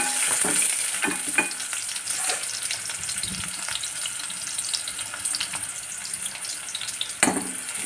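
Onions and curry leaves fry in a pan for semiya khichdi, giving a steady, close sizzle broken by occasional scraping stirs and light clicks, with no voices.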